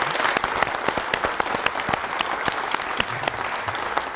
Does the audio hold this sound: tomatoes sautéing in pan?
no